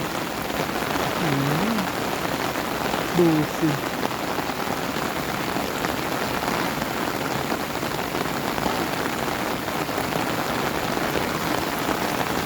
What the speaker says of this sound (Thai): ฝนตกทั่วอีสานเลย ดูสิมองไป มีแต่ฝน